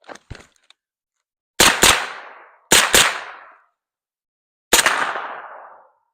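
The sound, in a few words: gunshots fired at night under a PVS-14 night vision device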